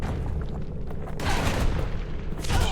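Calamity Cannon from the video game Bastion firing, heavy booming blasts with rumbling, crackling tails, loud and close, two bursts of dense explosive noise one after another.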